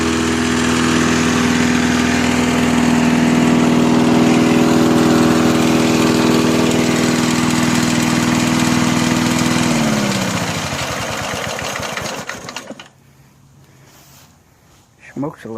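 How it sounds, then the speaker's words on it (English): A free Snapper walk-behind lawn mower with electric start, smoking slightly and with a leak, runs its engine loudly and steadily for about ten seconds, then slows and winds down to a stop, leaving near quiet with a couple of small knocks at the end. "But hey, we got the free lawnmower working."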